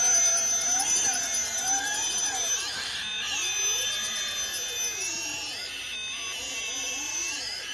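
A Gapra RC vehicle's electric motor whines at high pitch, rising and falling as the mud-caked tires spin in place, heard up close and continuous with no talk.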